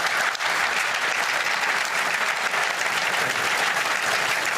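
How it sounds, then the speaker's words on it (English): Dense, steady applause from a large audience at the Davos World Economic Forum, sustained and even throughout with no pauses or voices standing out. "He got a bigger applause when he came in."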